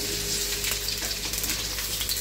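Onion, garlic and green chili fry in hot oil, giving a steady, close, dense sizzle that holds even and unbroken throughout with no talking.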